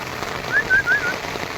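Steady rain falls outdoors around a goat herd, a soft continuous patter with a few brief high whistling or bird-like chirps rising above it midway.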